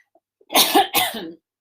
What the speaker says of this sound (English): while I just clear my throat